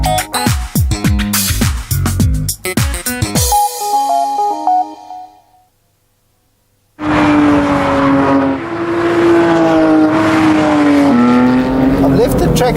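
A Porsche 911 driven hard on a racetrack, its engine roaring loud and close with sharp shifts, a brief silent gap, then sustained high revving as the car pulls through the corner; talk also occurs.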